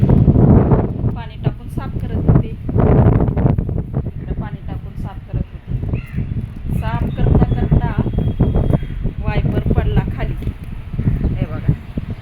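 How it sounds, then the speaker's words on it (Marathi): Strong wind gusts across a high balcony, roaring and buffeting the microphone in a continuous loud rush while a person talks over it throughout. "हव्याचा पण आवाज येत असेल तुम्हाला भरपूर हवा सुटले"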